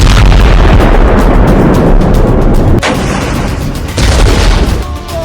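Explosions from a midnight air strike on Beirut by fighter jets, a loud continuous rumble of heavy booms and crackling blasts with sharper bursts standing out, and no voices.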